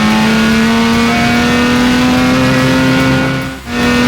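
A race car engine holds a loud, steady high drone at speed on a track lap, with a strong constant tone and a brief dip near the end as the note shifts.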